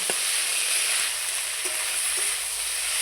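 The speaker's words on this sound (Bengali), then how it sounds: "বেগুনের সঙ্গে নিম পাতাটা খুব সুন্দর করে এখন ভেজে নেব" Steady sizzle of neem leaves and eggplant frying in hot oil, a continuous close crackle with a few soft stirring knocks and no voices.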